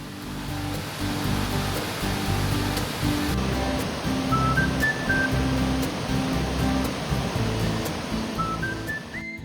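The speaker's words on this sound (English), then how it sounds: "we visit Shirogane Fudo Waterfalls, where crystal clear water cascades down the rocks" Shirogane Fudo Waterfalls in East Hokkaido send clear water cascading down rocks in a steady, dense roar of rushing water, with faint high chirps above it.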